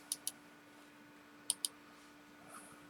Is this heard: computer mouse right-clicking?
yes